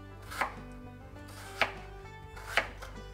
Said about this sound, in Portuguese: e vai cortando os quadradinhos